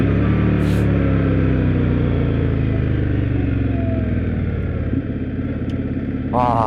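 An Indian Scout Bobber motorcycle engine rumbles steadily and close for several seconds, its low exhaust note flat and continuous, with a faint clack near the end.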